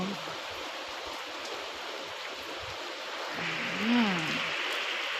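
Morning rain falling at a rural home, a steady continuous hiss of drops with a brief voice-like tone rising near the end.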